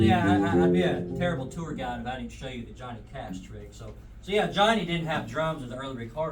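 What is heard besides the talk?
No everyday noises stand out.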